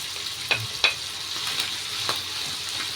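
Onion frying in a pan, a steady crackling sizzle with a few sharp scraping stirs and clinks near the start.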